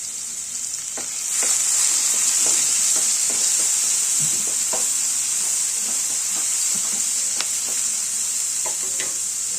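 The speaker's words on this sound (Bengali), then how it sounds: "সামান্য আন্দাজ মতো নুন দিয়ে হালকা করে ভেজে নেব" Green chillies and capsicum frying lightly with a little salt in a pan for vegetarian chowmein, a steady loud sizzle with scattered pops and spatula scrapes throughout, no talking.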